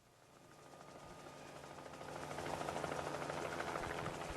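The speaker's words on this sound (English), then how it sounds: "Oh, there's a helicopter." A helicopter flies overhead in footage being played back, a steady rotor whir that swells gradually from faint to louder as it nears, with no talking over it.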